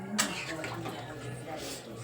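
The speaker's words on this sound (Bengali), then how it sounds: "এবার আমি জল দিয়ে দিচ্ছি।" Water poured into a kadai of spice-coated rice and masala for khichuri, a soft running splash that starts sharply and continues quietly under a person talking.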